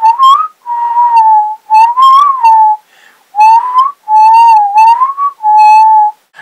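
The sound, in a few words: slide whistle sound imitation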